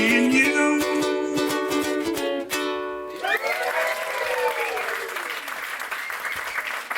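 At a stand-up comedy showcase, an audience applauds loudly as a sung or sustained musical note fades out, the clapping continuing steadily on its own afterward.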